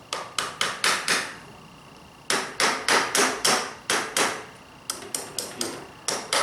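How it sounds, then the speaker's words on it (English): Sharp hammer blows drive nails into a beehive frame in quick bursts of five or six strikes, with short pauses between groups; close and clear, no talking. "just hammer it over"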